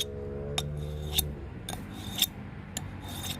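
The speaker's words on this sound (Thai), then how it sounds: "ลองใช้คอของขวดแก้วทุกชนิด นะครับ มารับมีดเพียงเราถูไปแบบนี้" A kitchen knife blade is rubbed back and forth against the neck of a glass bottle to sharpen it, giving sharp scraping strokes in a steady rhythm, close up, with a faint tone fading at the start.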